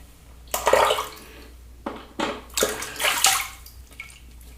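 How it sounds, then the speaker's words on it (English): Water splashes and sloshes onto a shaving brush in a few short bursts with brief pauses between them, close and fairly loud like a running tap filling and wetting the bristles. "get a bit more water on the brush"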